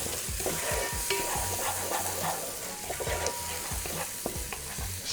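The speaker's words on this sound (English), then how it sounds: "just keeping an eye on those onions, going to give them a move around" Onions sweating in a pan while being moved around, a steady gentle sizzle beneath soft, repeated scrapes and taps of a utensil, close and fairly even, ending with a sudden louder knock.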